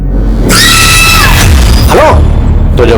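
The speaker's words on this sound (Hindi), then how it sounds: "जब आपको फोन पर किसी के चीखने की आवाज सुनाई दी" A person screams over a phone call in a dramatised crime scene, loud harsh shrieks with rising and falling pitch, bursts repeating over about three seconds amid noisy line distortion.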